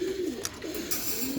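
A roller pigeon hen coos softly in a loft, several low wavering coos repeating in a slow rhythm, close by with faint background rustle.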